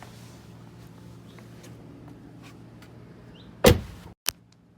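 Quiet background hum, then a sharp mechanical clunk of a Tesla Model 3 door handle and latch, followed shortly by a second lighter click.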